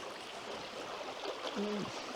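A small creek runs steadily with a broadband rushing and gurgling wash, close and continuous, with a brief tonal knock near the end.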